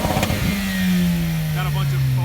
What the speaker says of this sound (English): Got a bunch of Focus ST kits right now, just revving, straight revving.